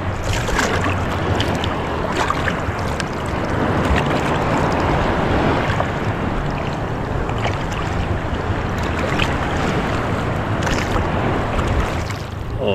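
Small wooden boat paddled with an oar, steady water sloshing and splashing close by over a broad wash of wind and waves, with no talk.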